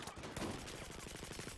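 Rapid automatic gunfire in Battlefield 4, a fast even rattle of shots running throughout, quiet overall and heard alone.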